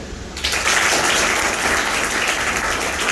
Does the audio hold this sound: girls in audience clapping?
yes